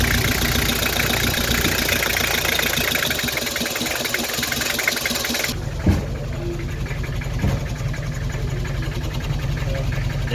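Nissan TD27 diesel engine running at idle with a misfire, an injector pipe loosened at cylinder one; steady loud engine noise throughout, dropping to a quieter rumble partway with a couple of sharp knocks.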